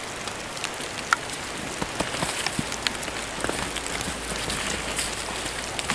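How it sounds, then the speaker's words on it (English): Rain mixed with soggy wet snow falls steadily at night during a winter storm, a dense close patter with scattered sharper drops hitting nearby surfaces, without talking. "A little bit of snow is turning into a soggy, wet snow and rain"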